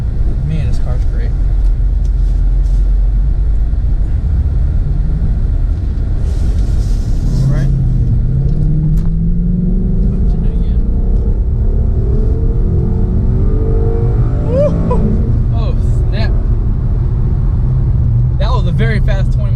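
A Ford Mustang GT's engine rumbles and revs as the car swings through a U-turn and accelerates, loud and close throughout, with someone talking over it.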